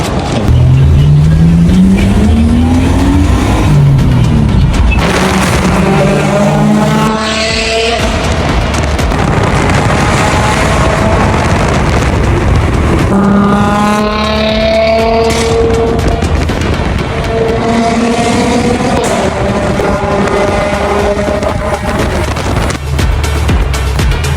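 A Toyota Chaser revs and pulls away on the road, its engine climbing through several rising gear sweeps with shifts between them, loud and close over constant road and wind roar.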